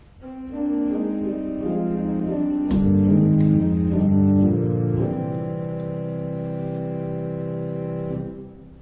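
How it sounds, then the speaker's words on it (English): A Spitz flute stop on a church pipe organ, its narrow tapered pipes giving a soft, breathy flute tone, plays a sustained run of chords and changing notes for several seconds before releasing. "And the Spitz flute sounds like this."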